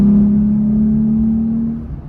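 Steady low engine grumble from a Jeep Gladiator fitted with an aftermarket cold air intake, heard from inside while driving, a constant drone that fades slightly at the end, with no talking.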